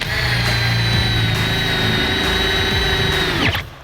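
A Makita power drill bores through steel at a steady high-pitched whine that holds for about three and a half seconds, loud and close, then stops abruptly as the bit breaks through.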